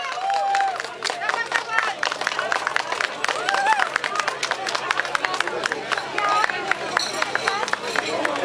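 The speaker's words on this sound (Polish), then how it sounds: "Wielkie brawa" Scattered clapping and cheering from spectators greet runners at the finish of a charity run in Czarnków, Poland, mixed with crowd babble and a voice talking over the sparse, uneven claps.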